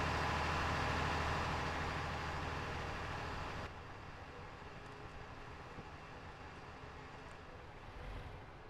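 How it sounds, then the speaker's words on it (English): A noisy tractor engine rumbles in Farming Simulator 19 on PS4, loud and steady for a few seconds before abruptly dropping to a quieter, rougher continuous drone with no voices. "That's a noisy tractor."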